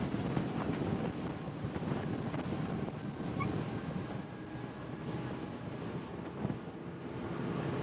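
A 2024 Bennington 28Q pontoon boat with twin Mercury V10 400 outboards speeds across water with a constant rushing roar of wind buffeting the microphone and water spray hissing beneath.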